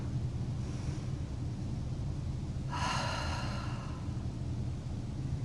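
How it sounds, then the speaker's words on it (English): A single deep breath during yoga practice: a soft, slow inhale through the nose over a low steady background, then a brief breathy exhale through the open mouth, close and fairly quiet. "let's inhale through the nose. Open mouth, exhale, release. One more time. Deep inhale."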